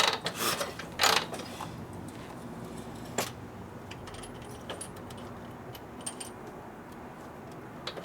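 Two rattling mechanical kicks on the kick-start of a rusty 1952 Harley-Davidson FL Panhead with a Linkert carburetor, followed by faint clanks and a quiet background hum.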